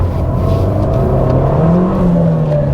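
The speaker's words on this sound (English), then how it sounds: "Bit of wheel spin there." An Abarth 595 hatchback accelerating hard, its small engine revving loudly and climbing in pitch up close as the wheels spin briefly, with no talk.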